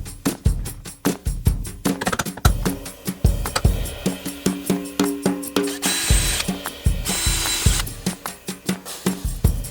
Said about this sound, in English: so now I'm going to pre-drill them and screw those in